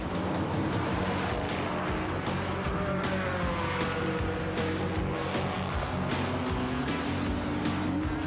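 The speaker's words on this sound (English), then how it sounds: "With fresh rubber fitted and the car fueled, it's ready to leave the pits with Price Colt behind the wheel." A Saleen Mustang GT race car pulls out of the pits at Le Mans in 1997, its engine a steady loud roar with sharp intermittent clacks and a rising whine as it accelerates, amid surrounding pit-lane noise.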